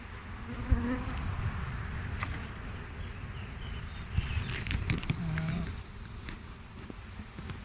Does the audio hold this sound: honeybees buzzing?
yes